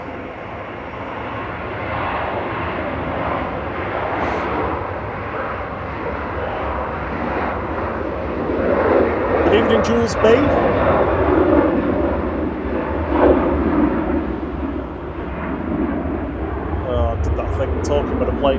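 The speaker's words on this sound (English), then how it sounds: "a plane's taking off" A steady jet engine roar from a plane taking off at Manchester Airport builds and swells under wind noise while a person talks over it.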